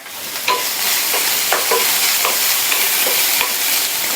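Chopped onions sauté in hot oil in a pan, with a steady close sizzle broken by several sharp scrapes and clicks of a spatula stirring at irregular intervals; no voices.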